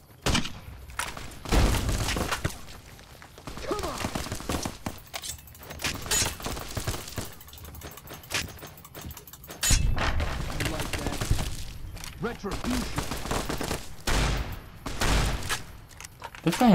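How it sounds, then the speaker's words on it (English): Shotgun blasts ring out in a raid on a Legion camp in Fallout New Vegas, loud repeated bursts clustered through a chaotic firefight, with someone talking over much of it. "Is my shotgun broken?"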